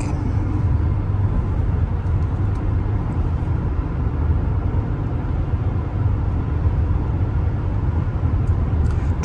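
Inside a 2010 Lincoln MKX on city streets and freeway, a steady low road rumble and engine drone hold loud and unbroken, with no voices.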